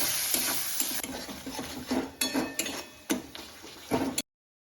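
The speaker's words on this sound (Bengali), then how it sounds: "এবার আমি আরও একটু ভালো করে টমেটোগুলো ভেজে নেব" Tomatoes fry in a pan with salt and turmeric, a steady close sizzle broken by repeated scraping strokes of a spoon stirring them, ending abruptly.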